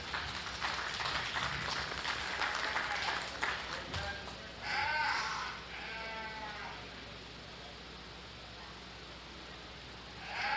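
At a county fair sheep and goat show, the crowd applauds a young exhibitor with a feedlot lamb project, moderate clapping for about four seconds, followed by nearby sheep bleating over a steady arena hum.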